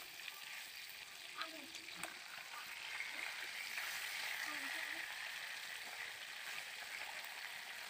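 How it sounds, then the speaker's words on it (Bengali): Bata fish pieces fry in oil as they are turned over, giving a continuous soft, even sizzle throughout, with a faint voice at times in the background. "মাছগুলোকে আমি এবার ভালো করে উল্টে পাল্টে ভেজে নেব।"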